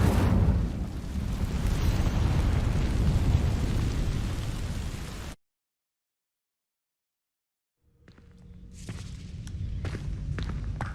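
An Incendio fire spell sets dry vines burning in Hogwarts Legacy with a loud, roaring whoosh of flame that then cuts to silence. A quieter crackling and rustling bed of sound returns afterward.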